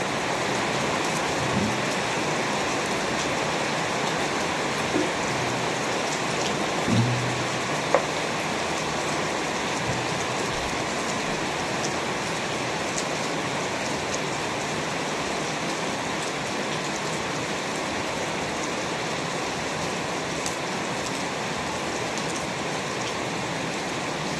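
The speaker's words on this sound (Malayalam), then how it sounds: "സൂപ്പർ മഴയാണ് കൂട്ടുകാരെ ഇവിടെ" Heavy rain pours steadily throughout, a dense continuous hiss with occasional faint knocks, no voices.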